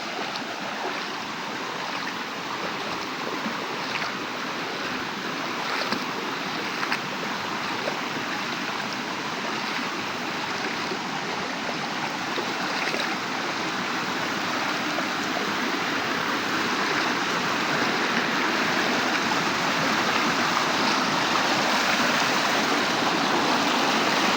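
A river rushes steadily, a broad continuous wash of flowing water that holds constant throughout.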